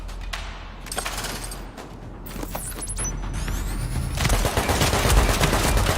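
Gunfire in The Division video game, rapid bursts of automatic weapon fire and shots mixed with mechanical clatter and a rising whine, growing denser and louder toward the end.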